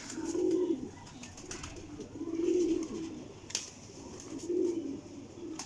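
Soft, low coos from a Teddy pigeon, a high-flying racing breed, repeat three times at an even, unhurried pace, close and fairly quiet against a faint background.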